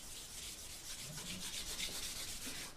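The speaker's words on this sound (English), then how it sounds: "Now you want to sand the rust off the barrel first with a 400 grit sandpaper." Sandpaper of 400 grit scrubs rust off a metal gun barrel in a steady, continuous hissing rasp with no clear pauses, close and fairly quiet.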